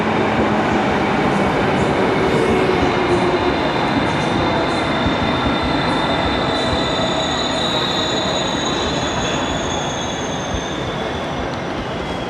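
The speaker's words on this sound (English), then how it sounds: "Here comes our train." An older locomotive-hauled train pulls into a busy station platform in Poland, a loud continuous rumble of rolling railcars with high squealing wheels and steady rail noise throughout.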